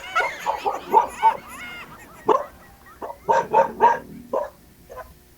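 A dog barks and yips nearby in quick irregular bursts, some sharp and some whiny, with brief pauses between volleys.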